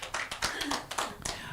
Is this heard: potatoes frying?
no